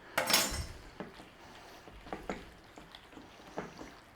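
Faint kitchen sounds of beef being mixed with cornstarch marinade in a bowl: a sharp clatter at the start, then a few scattered soft knocks and scrapes, quiet and sparse with no talk.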